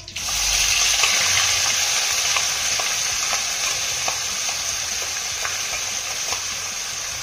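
Ground spice paste frying in hot oil with cumin and curry leaves for a spicy home remedy: a loud, steady, dense sizzle runs throughout, with light stirring clicks scattered through it and no talking.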